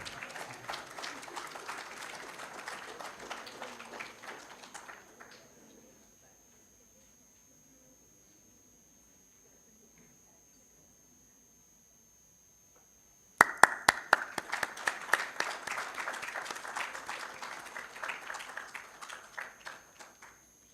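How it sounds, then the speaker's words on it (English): An auditorium audience at a memorial oration claps loudly for about five seconds, falls silent for several seconds, then bursts into another round of sharp applause. "A round of applause, especially from the ladies"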